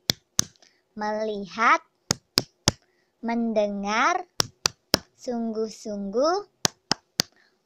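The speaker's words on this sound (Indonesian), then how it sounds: "tepuk fokus terlebih dahulu ya teman-teman" Rhythmic hand claps in a focus-clapping routine for a fourth-grade elementary maths lesson, sharp claps in short bursts alternating with a teacher's sung-spoken lines.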